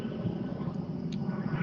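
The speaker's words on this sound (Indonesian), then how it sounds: "Ini pesawat lalu lalang terus di sini ya." A plane passes near an airport in Malaysia, a low steady rumble held at moderate distance throughout.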